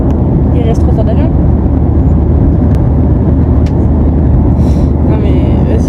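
A steady, loud engine drone fills an airplane cabin during flight, a constant low roar that never lets up, with people speaking French faintly over it.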